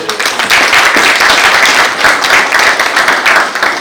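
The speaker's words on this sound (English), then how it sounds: "does it deserve an applause, at least by all of you guys here?" Audience applause at an awards ceremony for the Punjab Leadership Awards 2024, loud and dense steady clapping from a large crowd filling the whole stretch without a break.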